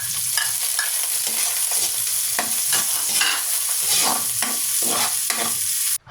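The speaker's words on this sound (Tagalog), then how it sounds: "Igigisa lang natin yan hanggang sa lumabas yung aroma" Ginger, onion and garlic sautéing in hot oil for a chicken-blood dish, with a steady sizzle broken by repeated scraping stirs of a spatula in the pan, loud and close with no voices.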